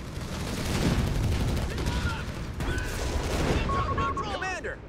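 Gunfire in Company of Heroes 3 during an Italian beach landing battle, with dense overlapping rifle and machine-gun bursts, explosions and shouted voices throughout.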